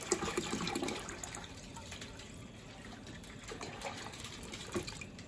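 Tap water runs steadily into a pot of peppers for cowboy candy, a continuous close splashing fill with a few brief drips and clinks, no talking.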